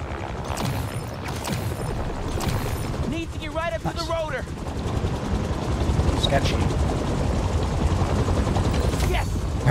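Helicopter rotor in the Spider-Man 2 video game, a loud sustained thudding drone mixed with game combat noise, brief rapid bursts like gunfire, and a short chirping effect.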